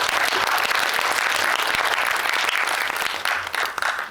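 A cinema audience at a Megabox Coex screening Q&A breaks into loud, sustained applause, dense clapping filling the room steadily for the whole stretch before tapering slightly near the end.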